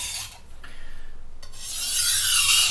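The broken tip of a chef's knife is ground by hand on a sharpening stone, making a close rhythmic scraping rasp of back-and-forth strokes that swells louder toward the end.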